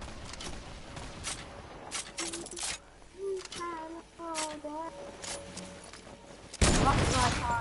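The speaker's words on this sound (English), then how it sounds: "Fireworks in the sky." Fireworks bursting in the Fortnite video game, a run of sharp crackling pops and booms scattered through the clip, with a loud burst near the end, under ongoing game sounds and a voice talking.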